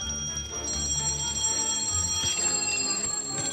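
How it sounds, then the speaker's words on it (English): Alarm clocks ring together during the Trapped game show, a continuous shrill bell-like ringing that stays loud and unbroken throughout, with no talking. "Turn on some alarms and get into bed quick."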